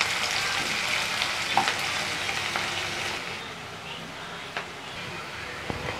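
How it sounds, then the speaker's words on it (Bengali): Chopped onions fry in a pan on their way to browning for a chicken liver kosa, giving a steady, moderately loud sizzle with occasional soft stirring scrapes throughout. "পেঁয়াজটাকে আমি এখন ব্রাউন করে ভেজে নেব।"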